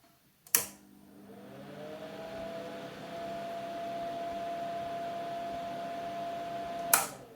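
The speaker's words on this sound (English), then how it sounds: "this one has quite a good AC powered cooling fan" The AC-powered cooling fan of a Cromemco computer system switches on with a click, then runs as a steady whirring hum with a faint whine for several seconds before a second click cuts it off.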